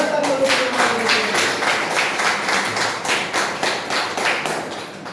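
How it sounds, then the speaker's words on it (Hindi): Sustained applause from an audience at a Hindi-language seminar event, dense rhythmic clapping filling the room at a steady loud level without a break. "अब जबरदस्त तालियों से"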